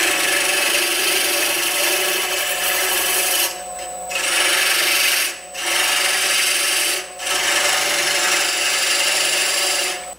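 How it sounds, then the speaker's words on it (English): A round nose scraper cuts into wood spinning on a woodturning lathe, producing a loud continuous rasping scrape with a motor hum beneath, briefly lifting off the wood three times. "a lot of times I start with a round nose scraper just to develop that opening a little bit"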